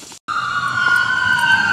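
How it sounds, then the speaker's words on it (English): A siren wails steadily on a street, a sustained high tone swelling slightly louder as the emergency vehicle goes by, heard alone without talk. "There goes an ambulance."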